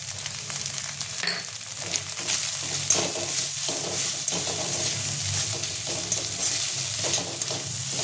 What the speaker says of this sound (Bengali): কাঁচা জিরে বলে এটা আমি এর মধ্যে একটু কষিয়ে নেবো